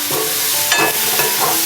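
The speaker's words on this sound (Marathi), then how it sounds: "हा मी आता चांगला परतून घेणार आहे मीठ टाकून" An onion and coconut masala with ginger and garlic sizzles and fries in a pan while it is stirred and salt goes in, with a continuous crackle and brief scraping strokes close up and no talking.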